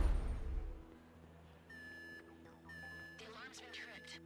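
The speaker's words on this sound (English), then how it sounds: "The alarm's been tripped." An intermittent electronic security alarm in GTA 5 during an FIB building heist, sounding as repeated steady tonal beeps in bursts after a louder opening, alongside game sounds.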